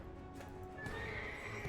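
A horse in the video game Black Desert Online neighs with a rising whinny over soft hoof clops, brief and moderately quiet, with faint background game sounds.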